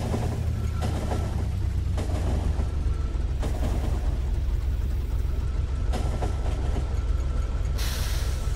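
Train running in the video game Factorio, with a steady loud rumble of rolling cars and a rhythmic clatter recurring about every second, continuous throughout with no talk over it.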